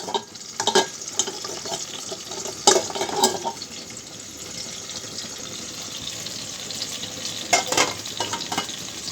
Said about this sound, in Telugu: టమాటాలు మంచిగా మగ్గుతున్నాయి కదా